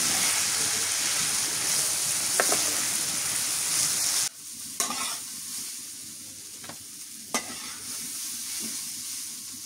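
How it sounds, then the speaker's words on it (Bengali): Potatoes and long beans frying in a pan make a loud sizzle that drops abruptly midway, then settles into quieter crackling with a few sharp clinks and stirs. "হয়ে গেছে আমার আলু বরবটি ভাজি।"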